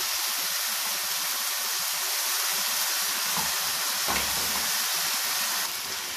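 Schezwan chicken noodles with homemade sauce tossed in a hot pan, producing a steady, dense sizzle and hiss with a few soft stirring scrapes near the middle, close up and without talking.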